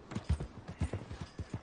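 Horse hooves clip-clop in a video game: a quick, uneven series of about a dozen soft hollow thuds, moderately close and fairly quiet, with no talking.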